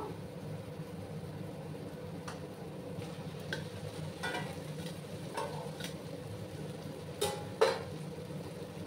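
Vegetables for a mixed paneer vegetable curry stirring in a hot spiced pan, a steady low sizzle with scattered scraping taps of the spoon and a couple of sharper clinks near the end, no talk.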